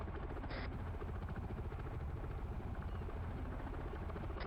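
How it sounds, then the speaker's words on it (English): A helicopter hovers over water during a training exercise, its rotor and engine making a loud, continuous broadband roar that stays steady throughout, close by and with no clear speech. "I'm about 200 meters from the helicopter."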